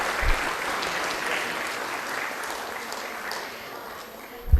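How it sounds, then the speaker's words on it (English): An audience at a university research showcase applauds recipients of international honours, a sustained wash of many hands clapping that holds steady and fades slightly toward the end. "So a big round of applause for these recipients of international honors."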